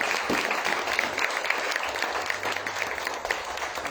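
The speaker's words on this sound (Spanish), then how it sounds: "Denle un aplauso al Señor." Steady applause from a congregation at a Spanish-language church service, a dense wash of clapping that holds at an even level throughout without pausing.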